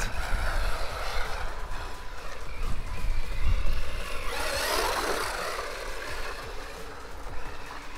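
An MJX Hyper Go H16H RC car drifts on a cold, wet road, its electric motor whine swelling and falling over a rough, splashing hiss of tires on the damp surface.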